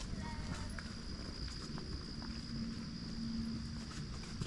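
Horses walk during a horseback ride, their hooves giving a faint, irregular clip-clop against a steady background hum. Distant voices are heard.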